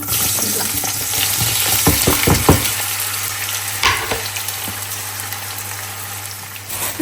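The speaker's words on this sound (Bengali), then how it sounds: "শাক হতে তো একটু ভাজি করেই ফেলি এখানে রসুন পেঁয়াজ আর একটা আলু দিয়েছি" Leafy greens frying in a pan with garlic, onion and potato, a steady loud sizzle with stirring scrapes and clatters throughout, no voices.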